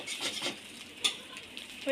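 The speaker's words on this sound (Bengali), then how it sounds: "ডিমগুলো ভাজা হয়ে গেছে" Boiled eggs frying in a pan, a soft steady sizzle with a few brief clinks and scrapes of a utensil, close and moderately quiet, with no voices.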